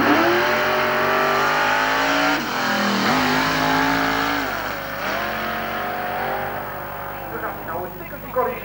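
A loud, roaring dragster engine holds a steady high note, dips briefly, then revs on with screeching tires during a burnout at a 1990 drag racing event in Dwingeloo, under a noisy crowd-like wash.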